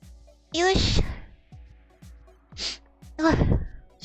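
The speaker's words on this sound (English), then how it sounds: "I had to sneeze in the middle of my yawn." A person sneezes mid-yawn, a sharp forceful burst followed by breathy gasps and a second sneeze-like huff, close and alone in a quiet room.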